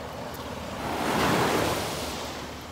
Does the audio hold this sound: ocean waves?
yes